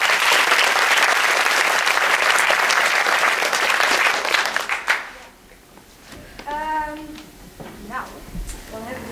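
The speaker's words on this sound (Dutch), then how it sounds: "Oké, groot applaus voor me." A crowd at a literary café event applauds loudly for about five seconds, then the clapping cuts off and a voice begins speaking.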